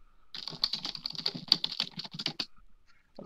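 Rapid keyboard typing in the Nier Automata video game, a dense burst of crisp clicking keystrokes for about two seconds, then a pause and a faint click.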